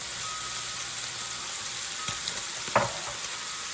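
Onion and vegetables frying in a hot pan, a steady bright sizzle with a couple of sharper crackles and a brief stir-like clatter near the end, heard alone up close.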